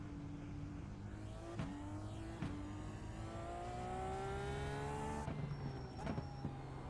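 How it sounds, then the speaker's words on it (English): IndyCar race car engine in a sim racing game at Barber track, the engine note rising steadily through the gears with sharp shift breaks, loud and continuous throughout. "So tonight's race is an IndyCar race at Barber, which is a very technical track with lots of hidden corners."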